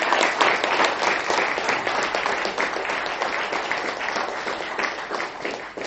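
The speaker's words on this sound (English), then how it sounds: "great round of applause for him" An audience gives a guest lecturer a sustained round of applause, dense clapping from many hands that swells at the start and slowly tapers off, with no talking over it.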